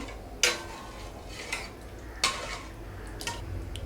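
A few scattered clinks and scrapes of a spoon stirring wheat rava upma in boiling water in a metal pot, spaced irregularly over a low background hum.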